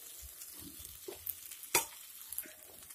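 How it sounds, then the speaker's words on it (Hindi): Potatoes added to a hot pan of cooked vegetables and cornflour for potato tikki filling, with soft sizzling under faint stirring scrapes and one sharp clink of the utensil. "बस अब हम ये आलू डाल देंगे,"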